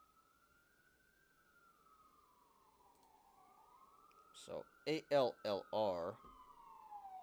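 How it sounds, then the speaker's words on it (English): A distant siren wails slowly up and down and keeps sounding, with a person briefly speaking over it toward the end. "And here comes the siren."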